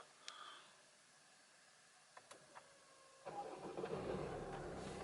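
An Opel Astra K with the 1.6 CDTI diesel engine is started in a quiet cabin: a few faint clicks, then the engine catches and settles into a soft, steady idle.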